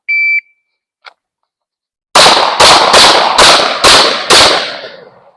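Six loud, sharp pistol shots from a concealed-carry handgun such as a Glock 43X MOS or Shadow Systems CR920X, fired while moving on a range; an electronic timer beep comes first, then the shots crack in a quick, even string and fade away.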